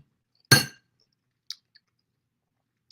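Cutlery and dishes clinking during a meal: one loud, bright clatter followed by a few small, faint clinks spaced over the next seconds, with no voices.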